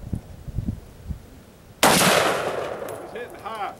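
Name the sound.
gunshots in a shoot house run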